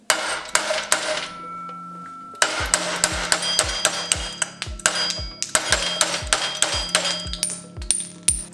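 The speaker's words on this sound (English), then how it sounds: "so how about you watch me use a hammer instead?" A hammer striking a metal car part on a twin-turbo LSX Mustang build, sharp metallic clanks in fast irregular bursts with short pauses, close and loud.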